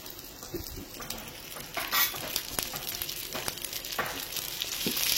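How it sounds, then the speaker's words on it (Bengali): Potato chicken sandwich filling sizzles in a pan over a low flame while it is stirred and turned. A steady close frying hiss runs throughout, broken by scraping stir strokes and small clinks, with no talking. "এবার এগুলোকে নাড়াচাড়া করে পুরো ভেজে নেব, এতেই কিন্তু ভাজাটা হবে"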